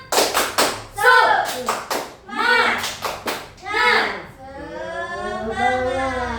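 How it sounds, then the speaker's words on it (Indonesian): Schoolchildren in a classroom clap in quick rhythmic bursts as part of a group cheer, sharp and close, alternating with loud chanting voices and an adult speaking. "Tepuk semangat sekali lagi."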